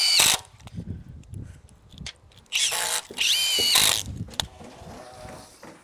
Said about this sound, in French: Donc là, pour commencer, on doit mettre deux vis.